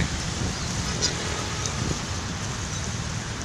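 Many birds at Manila Bay call and honk over steady wind and surf-like background noise, a busy outdoor mix with no clear voices.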